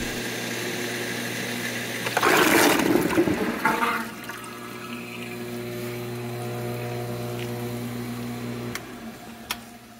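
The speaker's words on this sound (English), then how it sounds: "Make sure the pump is still running when you pull the hose." A pump drawing water down from an aboveground pool being winterized, with a brief loud gurgling, sucking rush that fades into a steady mechanical hum and faint ticking.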